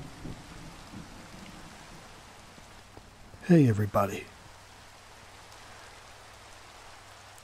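Steady Minecraft rain hisses softly and continuously in the background, briefly interrupted by a voiced greeting, then continuing alone at low, even level.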